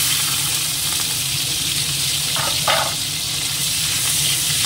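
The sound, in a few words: prawns sizzling in hot oil with dried chilli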